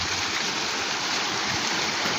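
A snowmelt-fed creek in West Kelowna flows nearby, a steady rushing wash of water with no voices and no change in level.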